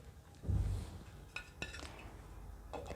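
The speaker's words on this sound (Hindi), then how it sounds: "अब इसको ढक्कन से कवर कर लेंगे।" A metal lid is set onto a cooking pot with a soft thud and clink, followed by a few light metallic taps and rattles nearby at fairly low volume.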